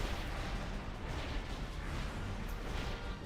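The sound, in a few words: cannon firing in World of Warcraft video game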